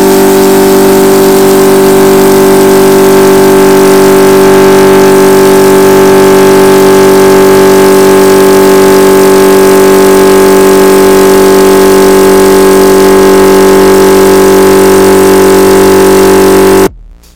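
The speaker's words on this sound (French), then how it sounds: "je vais démarrer le compresseur pour vous montrer la compression de l'air" Workshop air compressor motor running continuously, a loud steady drone with a strong hum as it pumps air into its tank, cutting off abruptly near the end.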